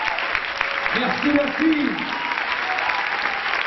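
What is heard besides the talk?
audience applause at comedy show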